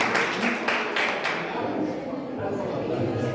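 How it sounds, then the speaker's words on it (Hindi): An audience at a 26 January event claps in a burst of sharp, rhythmic hand claps at first, fading into softer, scattered clapping and background murmur. "यही वक्त है तालियां बजाने का"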